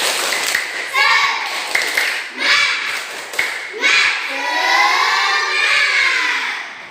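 Schoolchildren chant together while clapping a rhythmic spirit clap, sharp, loud, evenly spaced hand claps punctuating their sung words.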